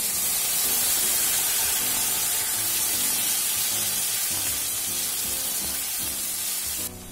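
Loud, continuous hiss of cumin, dried chilli and spices sizzling in hot oil for a Bengali cabbage ghonto, with bursts of crackling that drop off sharply near the end.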